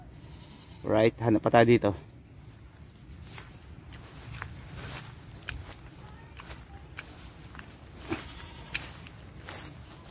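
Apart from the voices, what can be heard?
goat bleating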